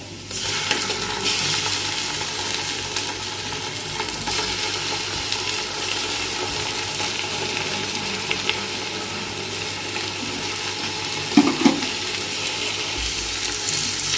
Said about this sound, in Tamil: இஞ்சி பூண்டு பேஸ்ட் சேர்த்துக்கிறோம். நல்லா வதங்க விடணும்.